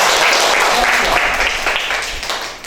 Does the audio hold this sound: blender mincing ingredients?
no